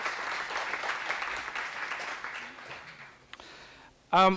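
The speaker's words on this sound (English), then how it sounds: "Give yourselves a round of applause." An audience at a scholarship dinner applauds, a steady wash of clapping from a room full of people that fades out, followed by a voice starting to speak.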